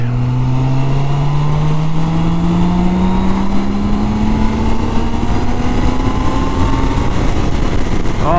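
A BMW K1600 B motorcycle's six-cylinder engine winds up at high RPM, a loud, close, smoothly rising engine whine sustained throughout with no talk.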